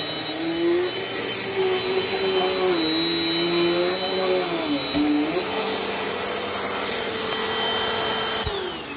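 A Dirt Devil Dynamite Plus vacuum cleaner whines steadily and loudly, its motor pitch wavering as it rubs and scrapes against something, then settling before it cuts down near the end.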